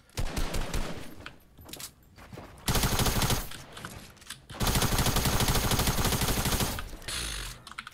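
Gunfire in the video game Fortnite, loud rapid bursts of shots in two long volleys with mechanical clatter between them and no speech.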